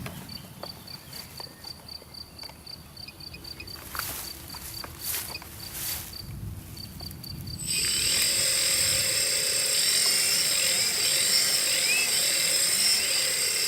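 An octocopter drone with a broken propeller, hovering under GPS hold, gives off a thin whining buzz at first, then a much louder, harsh, steady rotor roar that takes over and holds for the rest of the stretch.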